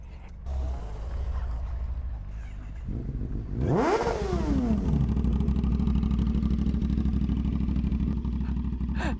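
A Kawasaki ZX10 sport motorcycle idles with a steady low drone, then revs sharply once, the pitch sweeping up and back down, before settling into a strong, close idle.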